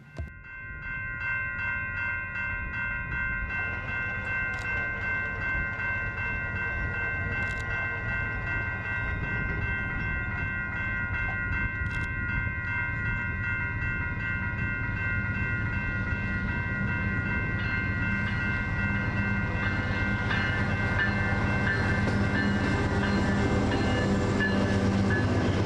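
A long double-stack freight container train rolls past steadily on the Alberta plains, a continuous rumble of wheels and cars building louder toward the end, with no voices.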